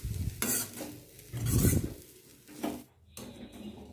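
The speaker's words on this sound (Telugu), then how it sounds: "కొంచెం లెమన్ స్క్వీజ్ చేసేసి బాగా కలిపేసుకుందాం" Onion rice with squeezed lemon being stirred in a pan, several bursts of scraping and clinking from a spoon against metal, close and moderately loud, with short pauses between strokes.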